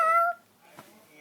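A young child imitates a cat's meow with one short, clear, high-pitched tone, followed by a faint breathy sound.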